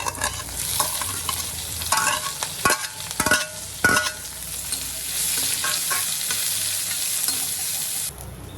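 Onion and green chilies sautéing in hot oil with mustard seeds and crushed garlic, a continuous close sizzle broken by several sharp scraping stirs early on, fading slightly at the very end, no voices.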